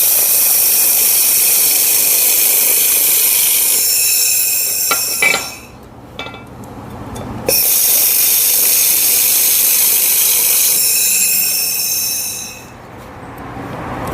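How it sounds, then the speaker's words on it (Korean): A welding rod arc-welds shut the end of a steel pipe on a tractor-mounted hydraulic log splitter, giving a steady, loud crackling hiss that cuts out briefly twice as the arc is broken and restruck. "일단은 제가 용접 봉을 사용해서 일단 떼우겠습니다"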